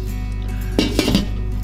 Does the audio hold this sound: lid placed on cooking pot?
yes